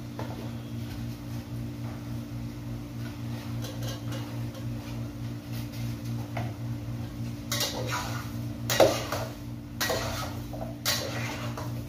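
White onion pieces drop into a simmering fish pot, making a few soft splashes and clatters around the middle and later part over a steady low kitchen hum, with no talking.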